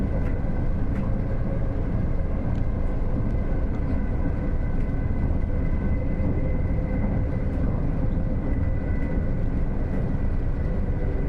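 A Class 150 diesel train in Train Sim World 6 accelerating, a steady loud drone of engine and rolling noise that holds constant throughout, with no voices.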